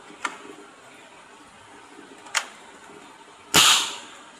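A homemade PVC toy gun styled as an M4A1 multishot, 8mm, dry-fired with no ammo: one sharp, loud crack-like pop close by, preceded by a couple of fainter clicks.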